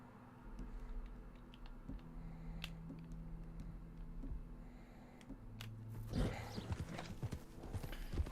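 Arabian horse hooves clip-clopping at a steady walking rhythm in the open world of Red Dead Redemption 2, with an occasional snort near the end, heard close and fairly loud over a low game ambience.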